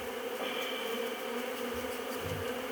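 Honey bees buzz steadily and densely around a Flow beehive during a first hive inspection, a continuous close drone of many wings.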